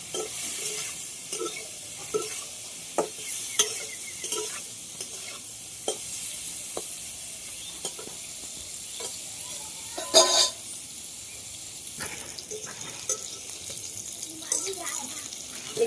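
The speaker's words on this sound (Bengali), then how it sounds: "অল্প করে একটু হলুদ দিয়ে আমি এঁচড়টাকে ভালো করে ভেজে নেব" Raw jackfruit pieces frying in oil with salt and turmeric, a soft steady sizzle under repeated scraping and stirring strokes of a spatula in the pan, with one louder clatter midway.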